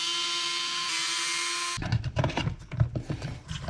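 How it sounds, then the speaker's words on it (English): Two screws being driven out of the bottom of a servo mount on a Team Associated 2WD RC car, a steady high-pitched power driver whine that then gives way to irregular clicks and rattling close by, without speech. "We're going to come in and take these two screws out of the bottom here"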